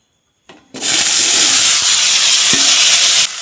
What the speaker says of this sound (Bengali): এখন আলু বেজে নিচ্ছি